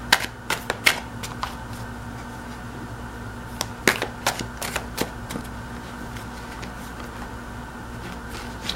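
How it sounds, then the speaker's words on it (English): Tarot cards are shuffled by hand nearby, making scattered sharp flicks and soft riffling clicks that bunch into short bursts and then trail off, with no speech. "So first shuffle the cards,"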